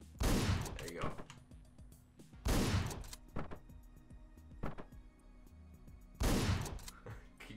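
Guns fire in the top-down action game Hotline Miami, three loud blasts spaced a couple of seconds apart, each with a rattling tail, plus smaller impacts between them.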